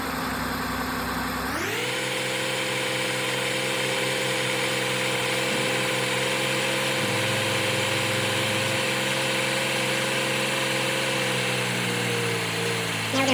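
A car engine settles into a steady idle after starting, its low hum and mechanical whine running continuously and fairly loud during a fuel system and injector test, with no talking.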